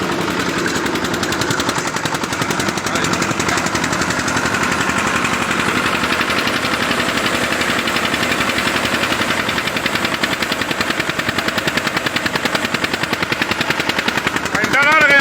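A tractor-driven wheat threshing machine runs continuously with a rapid, steady rattling pulse and engine drone, close by and unchanging throughout.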